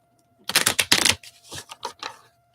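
A deck of small, thick cards shuffled by hand a few times, with quick riffling bursts then softer flutters, close up and with no talking.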